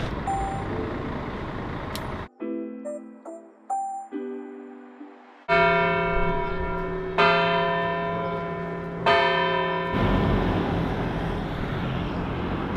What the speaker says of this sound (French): j'entends encore les cloches quoi. Ça marche comment? Ça sonne pendant une demi-heure, ça s'arrête plus.